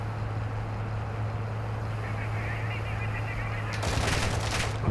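Gunfire crackles in a Call of Duty: Warzone 2.0 match, distant bursts over a steady engine drone, with a louder, sharper volley erupting near the end.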